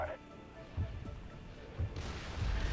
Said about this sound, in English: it's already getting hammered by that plasma turret